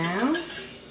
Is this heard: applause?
no